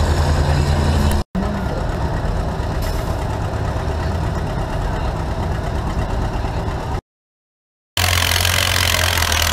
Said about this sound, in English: Corey's in an R12 with his Farmer M. Yeah, he's got that in second gear